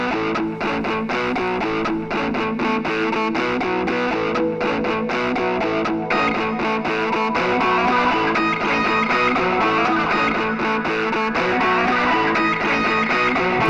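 A full, dense music mix plays continuously through the Airwindows Console8 plugin with a dark word-length reducer, giving a steady, slightly distorted sound with no voice.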